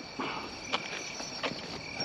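Kuma-suzumushi crickets chirp faintly beside a road, with a few soft repeated high pulses over quiet outdoor background and light movement sounds.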